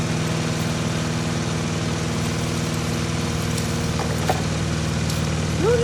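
A small gasoline lawn mower engine runs at a steady, even drone while cutting a home lawn, close and continuous with only faint incidental sounds on top.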